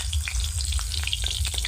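Dried red chilies, cardamom and green chilies hit hot oil, crackling and popping densely up close in a continuous busy sizzle over a low background rumble.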